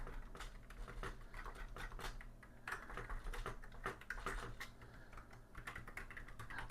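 Fingers type on an Atari ST / Falcon computer keyboard, a quick irregular run of close plastic key clicks and clacks with brief pauses between bursts, no voices.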